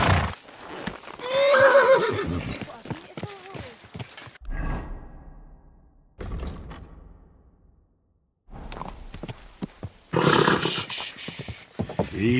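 A horse in the video game Kingdom Come: Deliverance II gives a loud, close neigh followed by snorts, breathy exhalations and clip-clopping hooves, with quiet gaps and a rushing burst near the end.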